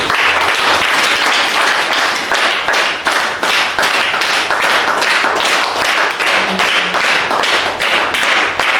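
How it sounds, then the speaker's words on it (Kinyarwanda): A group claps loudly for a child's birthday celebration at a school, with rhythmic, evenly spaced clapping that keeps going without a break. "Mumuha amashyi rwose."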